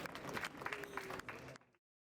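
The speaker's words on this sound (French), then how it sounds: "Est-ce qu'on peut applaudir grandement Travis et du coup Paul, s'il vous plaît?" A conference audience bursts into loud applause for the speakers, with dense clapping and some crowd noise that hold steady and then fade out quickly into silence.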